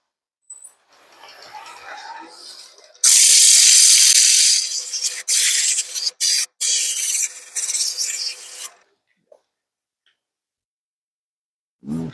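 Wood sanded by hand with 80 grit sandpaper, loud close rasping strokes in bursts with brief pauses, then quiet.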